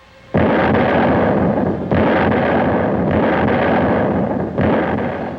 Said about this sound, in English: our captain ordered our own gunners to shell her and torpedo her